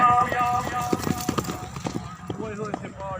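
A horse gallops at a tent pegging event in Juharabad, its rapid hoofbeats drumming steadily up close, while an announcer talks over the crowd noise throughout.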